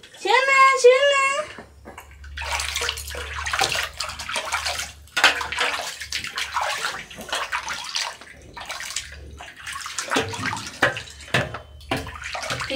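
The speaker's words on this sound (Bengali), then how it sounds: "তেল মেখে তারপরে স্নানটা করালাম" Water splashes and sloshes while a young child is bathed after an oil rub, irregular close splashes and trickles running under an adult's continuous talk, with a voice heard at the start.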